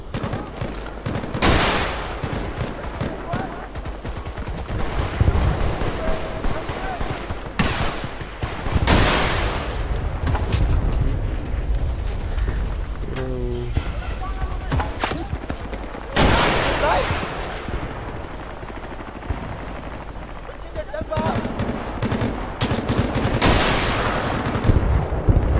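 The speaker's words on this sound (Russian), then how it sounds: "С горы откуда стреляет?" Battlefield 2 combat with bursts of automatic gunfire and heavy single shots cracking repeatedly, some close and loud, others farther off, while players talk over the fighting.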